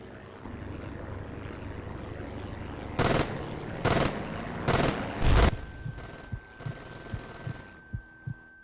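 A fighter plane's propeller engine approaches in the WWII Online combat game, a steady droning rumble broken by several loud, sharp bursts, then fainter clicks as a thin steady tone lingers.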